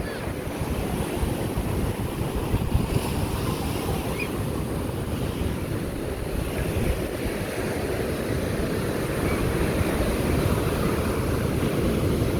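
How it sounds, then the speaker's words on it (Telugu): Night surf rolling in heavily on the beach at Mahabalipuram, a steady roar of breaking waves with wind buffeting the microphone throughout, loud and continuous with no voices. "సముద్రం అయితే విపరీతమైన అలలు వస్తూ ఉన్నాయి."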